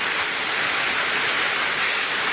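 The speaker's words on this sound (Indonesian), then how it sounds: "ternyata sampai di luar hujan keras guys" Heavy rain pouring outdoors, a loud steady broadband hiss with no pauses, heard alone and close throughout.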